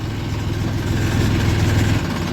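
A Mahindra tractor engine idles steadily and loudly close by on a foggy morning, a continuous low diesel throb with no voices.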